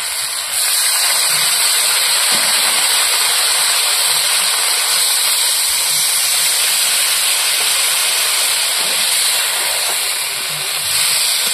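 Mixed winter vegetables for a fish-head chorchori let out a loud, steady steam hiss after water is poured into the frying pan, a continuous rushing sizzle lasting throughout with no voices.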